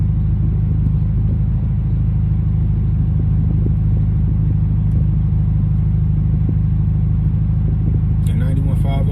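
A 5.0 V8 car with Flowmasters exhaust and an 8-speed paddle-shift gearbox rumbles loud and close in a steady deep drone that continues throughout, with a brief higher burst at the very end.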